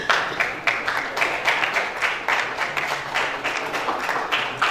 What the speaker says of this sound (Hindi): तालियां आपकी कमजोर पड़ रही हैं